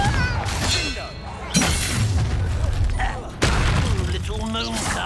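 Confringo explosion spells cast in the video game Hogwarts Legacy, a string of loud blasts and shattering impacts with magical whooshes and clangs, crowded together with combat effects and spoken incantations.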